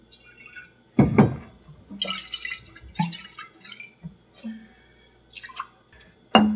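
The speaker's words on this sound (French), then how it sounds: "je me remplis une autre bouteille comme ça d'eau, tout simplement" Water trickles and splashes into a bottle in uneven bursts, close by, with glassy knocks and drips between pours.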